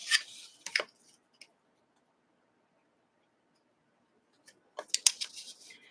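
Scissors snip through quilting fabric while a quilt block is cut, a few sharp close cuts at the start and a quicker cluster near the end, separated by near silence.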